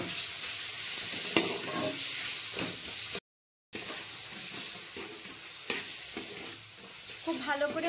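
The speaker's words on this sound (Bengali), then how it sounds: "এবার মশলাটাকে খুব ভালো করে ভেজে নিতে হবে।" Spice paste for a fish curry sizzles steadily in hot oil, with stirring scrapes and clinks in the pan, a brief silent gap midway, and close, continuous frying noise throughout.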